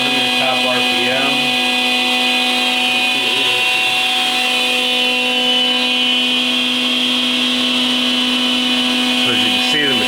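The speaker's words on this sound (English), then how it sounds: "the machine, the ball screws sound good, the spindle sounds excellent" A Hardinge DT-480P3 CNC drilling and tapping machine with its spindle spinning at top speed, giving a steady, loud whine with sustained tonal hum and high-pitched harmonics across the whole stretch, with faint shifts in pitch.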